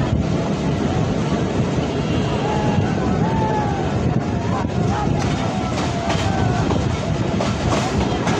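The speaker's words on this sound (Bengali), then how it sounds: "এই সেকশনে অন্তত আমাদের ট্রেনের গতি ভালো থাকুক" Titumir Express intercity train running on the rails between Saidpur and Domar, a steady loud rumble with clickety-clack wheel beats and wind buffeting the microphone throughout.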